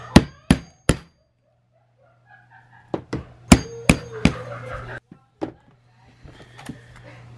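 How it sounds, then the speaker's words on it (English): Sharp hammer blows setting a rivet into leather on a plastic table: three quick strikes, a pause, then a further cluster of loud knocks and a couple of lighter taps, close and clear over a steady low hum. "Okay, we'll try to put this rivet in."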